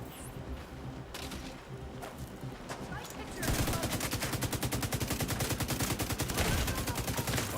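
Gunfire from snipers in the video game The Division 2 erupts halfway through as loud, rapid, densely repeating shots that keep going to the end, after a quieter opening stretch.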